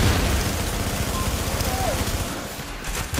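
A grenade goes off during a firefight in the game The Division, heard as a heavy, rumbling burst amid steady crackling combat noise, loud and near, with a short tonal blip passing through.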